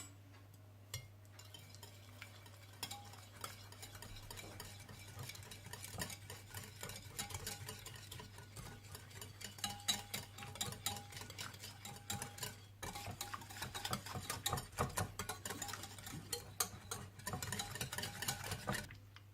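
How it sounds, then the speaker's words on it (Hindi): Shawarma garlic sauce of fresh lemon juice, finely chopped garlic, white pepper powder and salt being stirred in a bowl, giving faint, steady scraping and light clinking with no voices. "फ्रेश लेमन जूस, चॉप किया हुआ बारीक लहसुन, व्हाइट पेपर पाउडर और नमक डालकर अच्छी तरह से मिला लें।"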